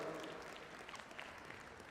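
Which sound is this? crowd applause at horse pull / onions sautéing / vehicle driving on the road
crowd applause at horse pull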